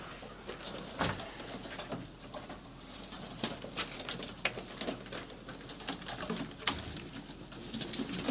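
Pigeons coo softly and flutter in a loft, with low murmuring calls and repeated bursts of wing flapping and scratching spread throughout, fairly faint and close.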